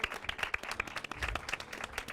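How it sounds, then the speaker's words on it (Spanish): A studio audience at a university talk gives a guest speaker a brief round of clapping, a dense patter of many hands at moderate distance with no voices over it. "Un fuerte aplauso para él"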